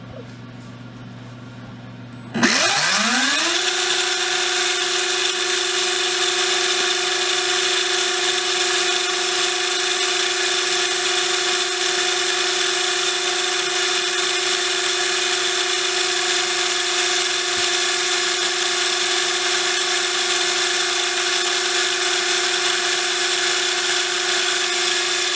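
A Hobbywing 17.5T V10G4-R brushless RC motor spins up abruptly and holds a steady, loud, high-pitched whine at full throttle, running alone with no change in pitch for about twenty seconds.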